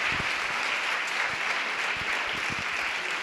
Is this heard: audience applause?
yes